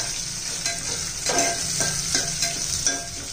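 Sliced large onion sautéing in a pan, with a steady sizzle and a series of scraping stirs recurring roughly every half second, close and clear.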